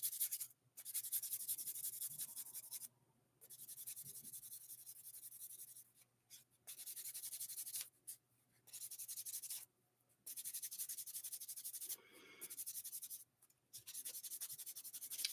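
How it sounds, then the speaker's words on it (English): A model part is polished by hand in steady back-and-forth rubbing strokes. The strokes come in bursts of a second or two, separated by brief pauses, and carry on close and fairly quiet with no talking. "One last bit of polishing"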